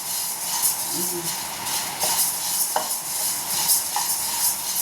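Horse gram dry-roasting in a pan over a low flame, with a soft steady scraping and stirring hiss and a few light metallic clinks of the spoon against the pan.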